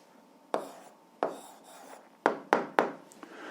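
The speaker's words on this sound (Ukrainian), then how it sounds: "записуємо відповідь, пишемо відповідь" Pen or pencil strokes on paper while a Ukrainian 8th-grade algebra answer is written down. Several short, close scratching bursts come in irregular spurts, the last few clustered quickly together, with no talk.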